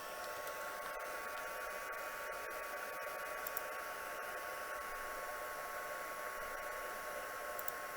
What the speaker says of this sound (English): Alright, let's bring our heat gun.